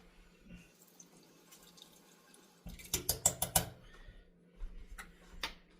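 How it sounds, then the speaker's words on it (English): A tablespoon is rinsed under a kitchen tap in a short burst of running, splashing water, followed by a few drips and light clinks in an otherwise quiet room, without speech. "let me rinse that because I'm going to use the same tablespoon"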